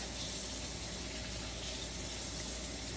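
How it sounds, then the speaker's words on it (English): Steady running water from a tap while foraged cattail stalks are rinsed in a kitchen sink, a constant close hiss and splash with no breaks and no talking. "I'm just gonna start rinsing things."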